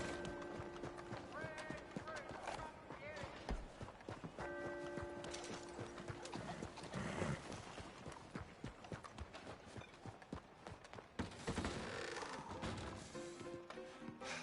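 A horse in Red Dead Redemption 2 gallops with rapid, steady hoofbeats on dirt, close and continuous, with an occasional snort and bits of game audio over it.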